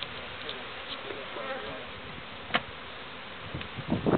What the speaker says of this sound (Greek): Αυτό έχει μέλισσα. Θα είναι όλα μέλισσα.